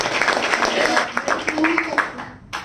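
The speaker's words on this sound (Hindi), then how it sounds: "बच्ची के लिए जोरदार ताली" An indoor audience claps for a child in a short burst of applause, with talk running over the clapping.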